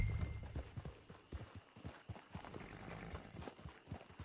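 Horse hooves clip-clop steadily at a walking pace in Red Dead Redemption 2, close and fairly loud, with an occasional soft snort or whinny and no voices over the footfalls.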